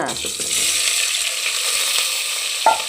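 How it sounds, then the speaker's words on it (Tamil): Mustard seeds spluttering in hot oil for a drumstick kurma, a loud close crackling sizzle that fills the whole moment, dense and continuous with a brief clatter near the end. "எண்ணெய் விட்டாச்சு கடுகு பொரியுது"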